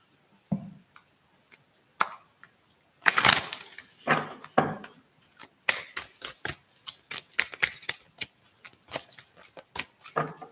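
Oracle card shuffling: a run of quick, papery riffles and taps, close and fairly loud, in uneven bursts with brief pauses between.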